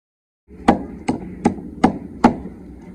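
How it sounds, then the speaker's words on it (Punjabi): Coarse spice masala being pounded in a kunda mortar, five sharp, evenly spaced thuds ringing out close and loud over a low background, no talking. "ਮਸਾਲਾ ਹਰ ਸਬਜ਼ੀ ਦਾ ਕੁੰਡੇ 'ਚ ਗ੍ਰੈਂਡ ਕਰਦੇ ਤੇ ਆਪਾਂ ਕੁੰਡੇ ਦੀ ਵਰਤੋਂ ਕਰਦੇ ਆਂ"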